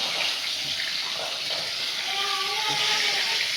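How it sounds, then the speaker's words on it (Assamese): Fish sizzles and crackles in hot oil, a steady close frying hiss with faint clinks. "আজি মই মাছ ভাজি আছোঁ।"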